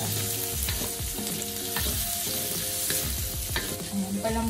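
Onions sizzling and frying in a pan, a busy crackle of popping fat close by with scraping stir strokes and utensil knocks throughout, no voices.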